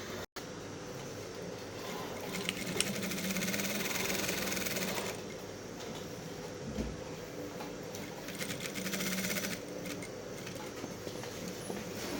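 Sewing machine stitching a slit opening on an Isi Agu outfit, running steadily and continuously at a close, moderate level for the whole stretch, with a brief gap at the very start and no talk.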